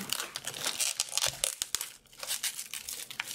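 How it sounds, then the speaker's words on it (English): Thin plastic foil packaging from a Lowery stand crinkles close up in quick, bright bursts with a short pause midway, no voices. "Now this is covered with a thin plastic foil"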